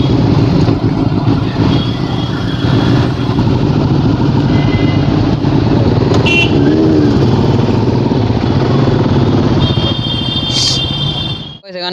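A motorcycle engine drones steadily while riding, a loud continuous low rumble close by with passing traffic and a few brief horn-like tones, dipping at the end.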